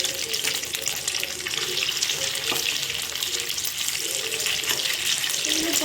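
Raw chicken pieces for dry chili chicken rinsed under a running tap: a steady, loud rush of water that fills the whole stretch, with faint handling noises mixed in.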